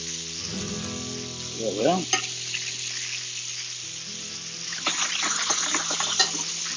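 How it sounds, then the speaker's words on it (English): Pasta tossed into a pan of frying bacon for carbonara, a continuous sizzle with clattering stirs and a brief wet rush as the pasta goes in, under a short spoken remark. "now I'm gonna put the pasta into the bacon, not the bacon to the pasta"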